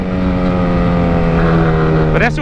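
Honda CB 1000 naked motorcycle with a straight open exhaust pipe, loud and close, a sustained throaty rumbling idle that swells under throttle and then climbs sharply in a quick rev near the end.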